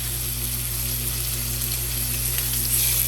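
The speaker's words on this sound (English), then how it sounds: "get a nice brown and cook the sausage all the way through" Italian sausage browns in a pan with a constant even sizzle, a steady hiss without pauses under a faint low hum.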